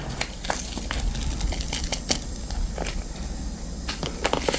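Scissors snip the tip off a dried red chili, followed by dry crinkling and crackling as the seeds are shaken out, close and busy with sharp clicks throughout.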